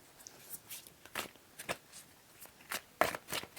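Tarot cards are shuffled by hand in a series of quick, soft, riffling bursts with short pauses between them, close and fairly quiet.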